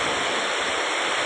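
Heavy rain pours onto a flooded road where floodwater has swamped a tricycle, producing a loud, continuous roaring rush of water and downpour with no talking.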